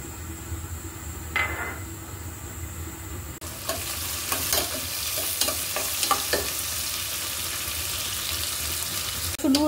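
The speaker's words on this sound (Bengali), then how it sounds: "রসুনগুলো কিন্তু ভাজা হয়ে গিয়েছে" Chopped garlic fries in hot soybean oil with a steady broadband sizzle, broken by several sharp stirring and scraping clicks from about the middle on, close and fairly loud with no voices.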